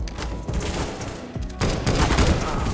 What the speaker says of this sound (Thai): เนื่องจากว่าเป็นปืนไรเฟิลแล้วยิงได้รัวเพื่อนๆเนี่ยเห็นไหม ยิงได้รัวครับ